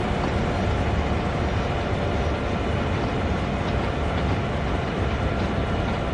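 A freight train rolls along the Sand Patch Grade in the Train Sim World 2 game, a steady, dense rumble of wheels and engine that continues unbroken at an even level.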